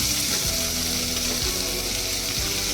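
Thinly sliced onions frying in oil with garam masala in a kadai, giving a loud, continuous sizzle with a few dull stirring knocks, close up and without voices.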